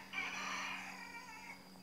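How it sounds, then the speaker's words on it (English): A rooster crows once at a distance, a faint drawn-out call over a low background hum. "my rooster over there."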